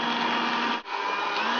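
A stand mixer kneads colomba dough with four eggs, a steady loud motor whir with a brief dip in the middle, then continuing unbroken with no talk.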